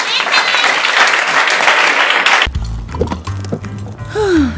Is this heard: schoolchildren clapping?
yes